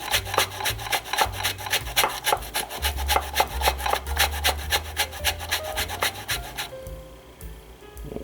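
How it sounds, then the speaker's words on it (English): A big lemon's peel is rubbed down a grater in quick, regular rasping strokes, close and steady for several seconds before the scraping stops. "This is a big lemon. Just grating it down."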